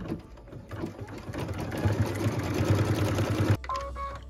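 A sewing machine runs steadily while stitching quilting on a pieced tree project, a close, continuous whirring hum that builds up and stops abruptly, followed by a brief quieter mechanical clicking.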